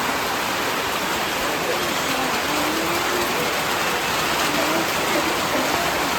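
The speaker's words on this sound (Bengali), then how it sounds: "তো বাইরে যে বৃষ্টি হচ্ছে, সন্ধ্যাবেলা থেকে বৃষ্টি হচ্ছে।" Evening rain falling outside, a steady dense hiss that holds at an even level throughout, close and fairly loud, with no other sounds standing out.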